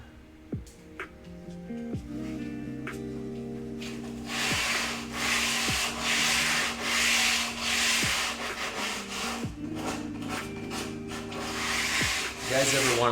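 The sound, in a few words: sanding a wooden camp sign edge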